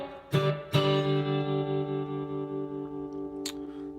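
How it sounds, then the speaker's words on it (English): An electric guitar runs through an old school mono spring reverb: two sharp plucked chords ring out and sustain with a lingering, shimmering reverb tail, then a brief high pick noise near the end, with no voices. "let's do an old school spring reverb"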